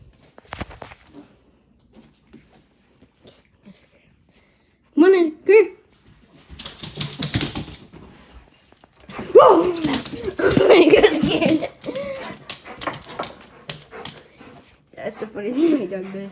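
Dog making short whimpers and yips in bursts with quieter gaps between, close by, while a person talks over parts of it.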